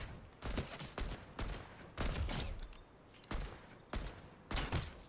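Fortnite gunfire rattles in repeated bursts, about six separate volleys of rapid shots spread across a few seconds with short gaps between them, loud and close, with no speech.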